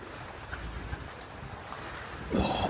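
Wind gusting across a big lake at a Yorkshire carp fishing venue, a constant rough buffeting rush on the microphone that swells louder near the end.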